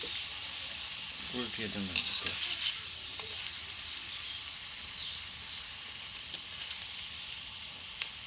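Neem leaves frying in a pan give a steady, hissing sizzle throughout, with a short burst of stirring clatter near the start and a few scrapes and taps later; a voice speaks briefly.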